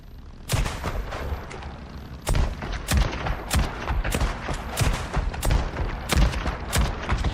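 Repeated gunfire in the zombie-survival game Days Gone Remastered: loud, sharp shots recur every half second or so over a steady noisy bed, fired in quick successive bursts.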